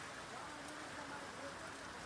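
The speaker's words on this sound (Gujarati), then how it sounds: "હવે વરસાદ આવ્યો" Heavy rain pours steadily during a summer storm with strong wind, a dense continuous hiss close by with no clear breaks.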